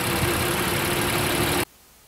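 A Honda Pilot's 3.5-liter V6 i-VTEC engine idling close by, a steady broadband hum with a low drone that cuts off abruptly near the end.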